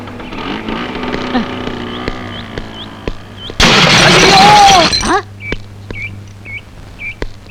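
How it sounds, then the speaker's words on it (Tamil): A scooter crashing in a road accident: a sudden loud burst of shattering, scraping impact noise about midway, lasting over a second, set between quieter stretches of background music and chirps, with no talk. "இப்ப ஸ்கூட்டர்ல போனானே அவன் ஆக்சிடென்ட் ஆகி செத்து போயிட்டான்"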